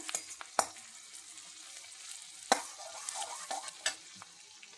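Masala with sesame powder frying and being stirred in a pan, a soft continuous sizzle broken by a few sharp scrapes of the spoon against the metal, close and fairly quiet with no voices.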